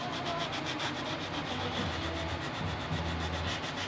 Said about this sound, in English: I'm scraping some little glue squeeze-outs around the linings with my tiny chisels